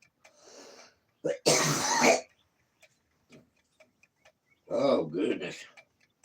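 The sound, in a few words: cough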